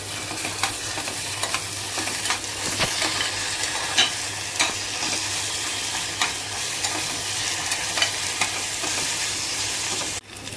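Onion with ginger-garlic paste sautéing in a pan, a steady close sizzle with scraping stirs throughout and a low constant hum beneath, no voices.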